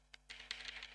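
A computer keyboard clicks out a short burst of keystrokes, a lone tap followed by a quick cluster of presses, close and fairly quiet in a still room.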